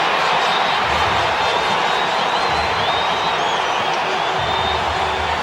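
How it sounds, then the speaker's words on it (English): A cricket stadium crowd cheers and applauds a boundary four at a test match, a loud, dense roar of whoops and clapping that stays full and sustained throughout, with no individual voice standing out. "Doesn't the crowd enjoy that?"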